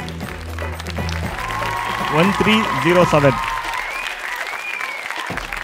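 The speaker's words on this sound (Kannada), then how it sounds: "ಹೊಡಿರಿ ಚಪ್ಪಾಳೆ" An audience at a couples' game show event in Davanagere bursts into applause, which swells in the middle and fades out, while a voice talks over it.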